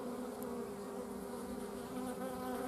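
A dense, steady drone of honey bees fills the air while a queen is being caught by hand during a hive removal, with no pauses or voices.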